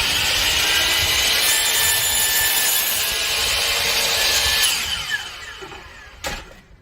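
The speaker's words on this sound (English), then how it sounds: "Here's the miter saw in action, cutting a little piece of wood." A DeWalt miter saw cuts a small piece of wood with a loud, steady, bright whine that runs for several seconds, then spins down and fades, ending with a short knock.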